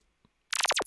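A dry synthesizer note from an Ableton patch with no echo or EQ, a short bright burst of rapid repeated plucks arriving after near silence, with a faint blip just before.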